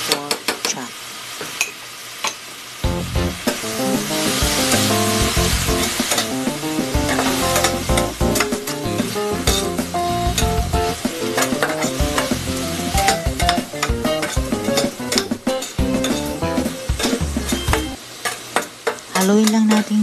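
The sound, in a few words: stirring frying pork chop with black salted beans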